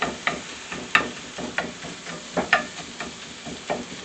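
Sausage patties frying in a pan, a soft steady sizzle broken by small irregular pops and crackles, heard close with no talking.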